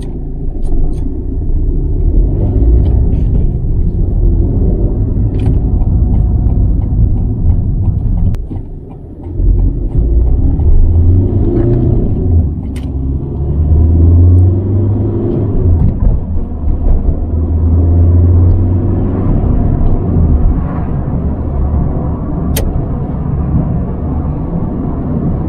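An Opel Meriva 1.3 CDTI diesel mini MPV on a road test drive, with steady low engine and road rumble filling the cabin and a brief dip partway through, continuous and fairly loud.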